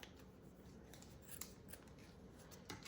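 Scissors snipping lace during a coffee-filter envelope craft, a few faint quick cuts close by in a quiet room, ending with a louder clack.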